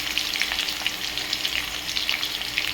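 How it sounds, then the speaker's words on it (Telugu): Chopped onions and green chillies sizzle in hot oil in a pan, a steady, close crackling fry with small spitting pops, no voices. "ఉల్లిపాయలు అయితే వేసుకుందాం. కొన్ని పచ్చిమిరపకాయలు వేసేసుకుందాం."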